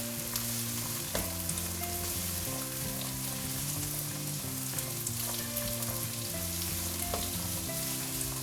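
Vegetables and sweet corn fry on a high flame with a dense, steady sizzle like rain, punctuated by sharp spatula clicks against the pan and a low background hum.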